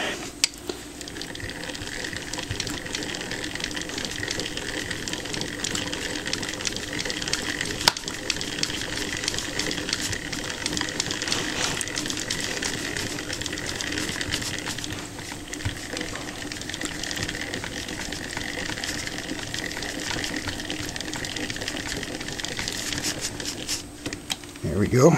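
A restored Edison disc phonograph motor is hand-cranked, giving a continuous dense ratcheting and clicking texture that holds at a fairly even level for about twenty-five seconds, close to the listener.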